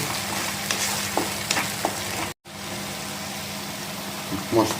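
Spice paste for a rui fish curry with potato and eggplant, frying and being stirred in a pan, a steady sizzle with scraping spoon strokes, close and continuous with a brief break midway.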